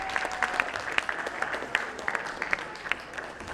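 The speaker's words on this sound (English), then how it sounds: "So let's give a round of applause to our students up there." Audience applause for students at a yearly leadership summit, steady distant clapping with scattered sharper claps over a hall's background hum.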